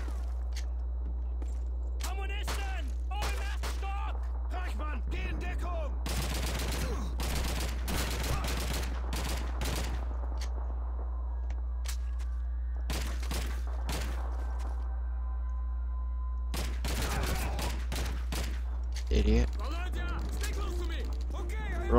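Rapid gunfire bursts and shots crackle through a Call of Duty 2 battle, with repeated volleys clustered between quieter stretches and a constant low hum beneath; voices call out in between.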